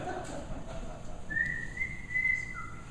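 A person whistles a thin, steady melody at moderate volume, with soft background noise and no talking.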